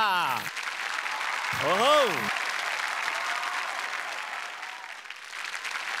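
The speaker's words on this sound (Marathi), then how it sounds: "यांच्यासाठी जोरदार टाळ्या" Loud, sustained applause from a studio audience on a Marathi comedy TV show stage, filling the whole stretch, with a brief voiced exclamation and a host's voice rising over it near the start.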